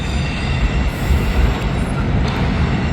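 A freight train carrying auto racks rolls past steadily and loudly at close range near Hamilton, its wheels rumbling with a continuous rattle and occasional faint squeals over the full span.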